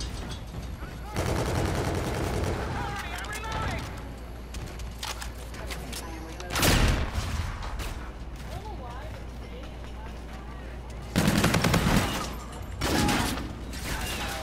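Gunfire in Call of Duty: Infinite Warfare, a multiplayer shooter match, with bursts of rapid shots spread across the clip, two louder, dense volleys standing out, amid game noise and a player's talk.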